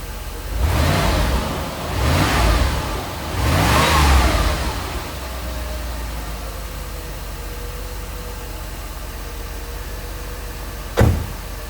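A 1986 Mercedes 560SL engine revs up three times, then settles into a smooth, steady idle hum, with one sharp click near the end.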